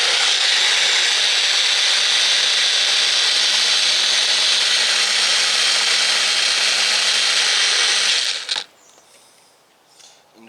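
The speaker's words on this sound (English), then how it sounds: "Everything's going to be processed in this little guy because it chops so much finer than my bigger blenders." A small blender chops mango and super-hot chilies, its motor roaring loud and steady at close range for about eight seconds before cutting off, leaving a quiet tail of faint rattling.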